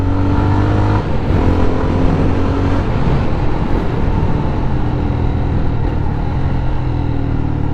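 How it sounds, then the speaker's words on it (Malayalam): A Jawa 42 FJ motorcycle engine with dual exhaust revving hard, a loud, continuous throaty roar with rising and falling throttle, close and unbroken for the whole stretch, with no one talking. "റവ് മാച്ച് ചെയ്യുന്ന സമയത്ത് ഭയങ്കര രസമുണ്ട് ഇതിൻ്റെ സൗണ്ട് കേൾക്കാനായിട്ട്."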